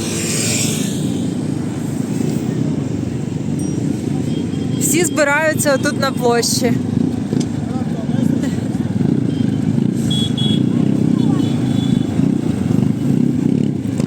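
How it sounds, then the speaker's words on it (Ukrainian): Motor scooters ride through a city square in Tirana, Albania, during a spring holiday celebration, a steady traffic rumble filling the scene with a brief higher whine in the middle while someone talks over it throughout. "Їдуть шалена кількість власників отаких мотороллерів."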